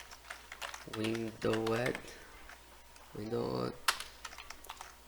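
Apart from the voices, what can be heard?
typing on a computer keyboard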